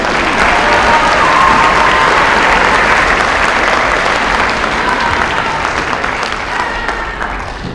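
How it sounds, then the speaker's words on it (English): An audience at a high school district honor band concert applauds steadily and loudly throughout, the clapping gradually thinning toward the end. "In their absence, we shall clap for them."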